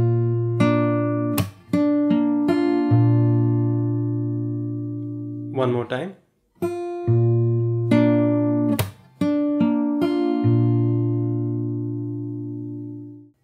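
Fingerstyle acoustic guitar plays a phrase from a song, sustained bass notes under plucked melody, with a brief spoken interruption in the middle before the picking resumes close and clear.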